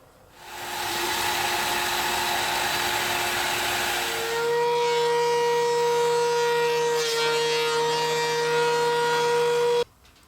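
Cherry wood boards being milled down to quarter-inch stock for chessboard squares, a loud, continuous whirring machine roar that shifts to a steadier higher hum midway, then cuts off abruptly near the end.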